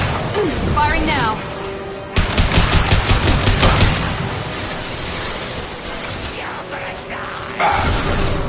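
Dense, loud gunfire in Mass Effect 2 fills the scene with a rapid automatic burst in the middle, under continuous combat noise, with brief voice-like sounds and effects scattered through.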